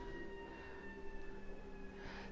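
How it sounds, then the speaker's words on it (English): A steady siren in the video game The Outer Worlds holds a high, sustained tone throughout, moderately loud, with no one speaking. "Dang, we got sirens again."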